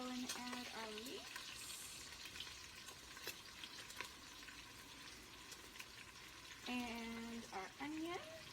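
Ground pork and leeks frying in a pan, a steady sizzle running throughout, with a person talking briefly at the start and again near the end.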